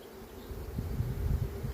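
Honeybees buzz inside a three-frame starter box used for carrying queen grafts, a low, steady hum of many bees that swells toward the middle and holds at moderate volume, with no voices.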